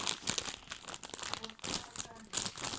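A plastic packet crinkles and tears open in bursts of rustling, with a faint voice briefly heard between the crackles.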